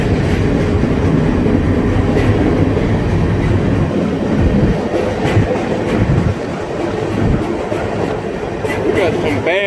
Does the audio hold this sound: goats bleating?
no